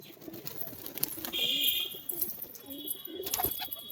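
Pigeons coo softly at a home loft in Nakashipara, Nadia, with low murmuring calls near and far, a few sharper chirps and occasional wing flutters over steady ambient noise.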